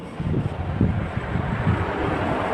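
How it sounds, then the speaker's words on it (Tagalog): Strong wind buffets a microphone in low, rumbling gusts during light drizzle in New Zealand, steady and loud with no other clear sounds. "Ang lakas ng hangin"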